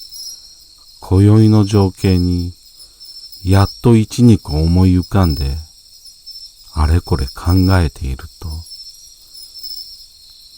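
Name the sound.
insects chirping at night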